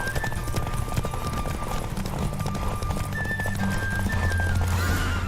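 Horse hooves clip-clop in a rapid gallop during a horse race in The Witcher 3 video game, a steady close rhythm running throughout with faint in-game ambience and tonal music beneath.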